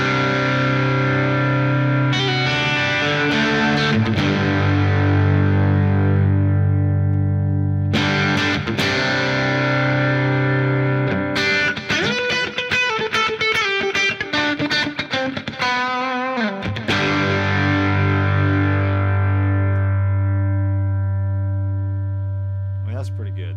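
Electric guitar played through a cranked Vox amp model with heavy distortion rings out in long sustained chords and bursts of faster riffing, loud and close, with no talking.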